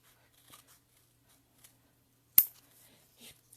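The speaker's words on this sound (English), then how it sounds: "And then I'm going to fussy cut that out." Scissors snip once, sharp and close, while paper card for a Christmas card is fussy cut by hand. Faint small rustles come before and after the single crisp cut in an otherwise quiet room.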